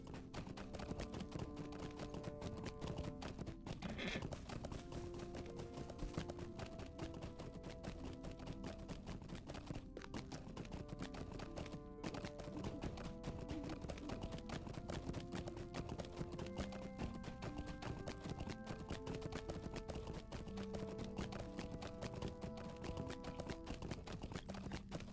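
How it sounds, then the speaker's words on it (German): A summoned horse galloping in Lord of the Rings Online, its steady hoofbeats running faintly and continuously beneath game music throughout. "Beeilung heißt immer Pferd rufen."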